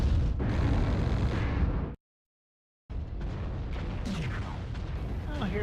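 A mech exploding in MechWarrior Online sets off loud blasts and rumbling detonations that run on continuously, break off for a moment of silence, then pick up again with more booming.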